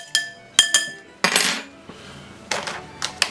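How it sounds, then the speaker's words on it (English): A utensil clinks and scrapes against a bowl while an egg is mixed into a spinach filling, several light clacks and short scraping strokes in an irregular rhythm. "Let's mix that egg up just a little bit."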